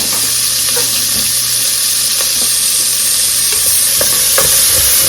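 Celery, onions and bell pepper hit a hot pan and sizzle hard in a steady, close hiss, with light clicks of a spoon stirring through it and no talking.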